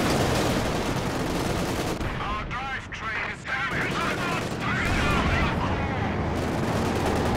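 Artillery barrage in a Company of Heroes 2 2v2 match, a dense, continuous roar of booming blasts and crackling fire throughout, loud and close, with a commentator talking over it.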